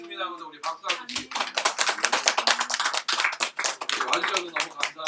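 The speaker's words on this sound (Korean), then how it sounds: "그래서 우리 박수 한번 주시고" Congregation clapping during a church worship service, sharp rhythmic claps beating close together while a voice speaks over them throughout.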